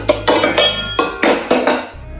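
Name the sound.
saucepan being handled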